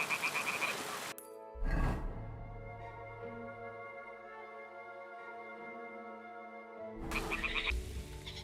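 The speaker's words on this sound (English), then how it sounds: "the toads are croaking here" Toads croak at a nest in a video game: low, drawn-out croaking calls, clear and fairly close, set between bursts of rustling ambient noise, with no speech.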